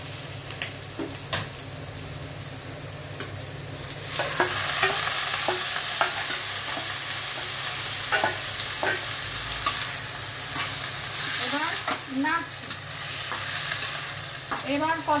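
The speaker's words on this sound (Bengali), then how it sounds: "এবার ম্যারিনেটেড চিকেনটা দিচ্ছি" Marinated chicken hits a hot pan with garlic, and the sizzle swells into a loud steady fry, with spatula scrapes and taps recurring throughout.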